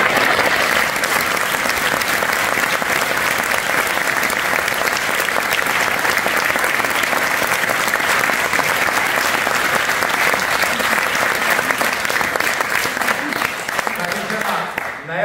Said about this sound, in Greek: θα ήθελα το πιο δυνατό σας χειροκρότημα για τα παιδιά